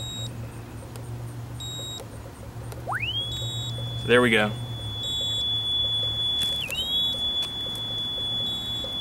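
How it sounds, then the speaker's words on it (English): A Jameson Duct Hunter locator emits a steady high electronic tone with sharp rising and falling chirps as its paired units match and sense each other outdoors, alongside a low hum; someone speaks briefly partway through. "You can tell by all the noise it's making that they're matched and they're sensing each other."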